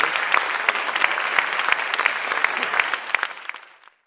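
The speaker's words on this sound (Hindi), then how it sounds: "जोरदार तालियां आप सभी की बजते रहना चाहिए।" Loud, steady applause fills an indoor kavi darbar poetry gathering, with dense hand claps that hold strong and then fade away near the end.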